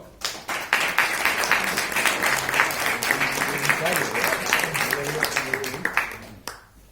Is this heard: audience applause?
yes